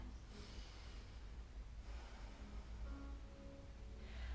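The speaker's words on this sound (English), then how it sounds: "So an Ujjayi breath in our yoga is breathing in and out through the nose, and on each out breath, just a small constriction at the back of your throat there." Slow, ocean-like Ujjayi yoga breathing through the nose with the back of the throat lightly constricted, a soft steady rushing that swells and fades in long waves, close and quiet, with no talking.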